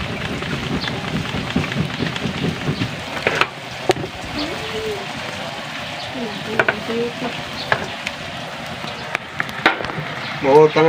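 Steady rain falls throughout in a Bisaya home kitchen setting, a dense hiss blended with sizzling and stirring sounds from cooking, with scattered clatter and knocks.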